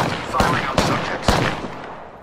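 Three sharp, closely spaced gunshots crack out in the Apex Legends video game over a dense, noisy game background.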